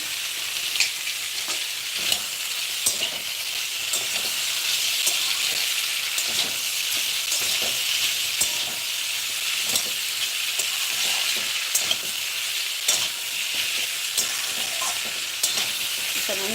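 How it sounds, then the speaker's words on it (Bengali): Vegetables seasoned with salt and turmeric fry in a pan with a continuous loud sizzle, while a utensil stirs and scrapes at an irregular rhythm, close-up with no talk. "শুধু নুন আর পরিমাণ মতন হলুদ দিয়ে সবজিগুলোকে ভালোভাবে ভেজে নিচ্ছি"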